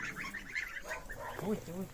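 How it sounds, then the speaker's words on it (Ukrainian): Geese honking nearby beside a pond in a quick series of nasal calls, fairly faint, with a person's voice mixed in among them. "Гусі, гусі, гусі."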